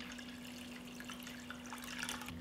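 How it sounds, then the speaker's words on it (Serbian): Water poured into a pot holding glass jars set on a cloth for pasteurizing, a faint continuous trickle over a low steady hum. "Vodu sipam do visine poklopca."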